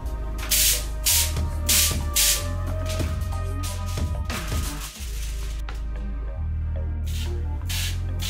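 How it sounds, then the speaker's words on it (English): Several short bursts of spray hiss in a loose series from a pump spray bottle of infused black cherry sour candy spray, over steady background music. "adding the top to the spray and pumping it a few times"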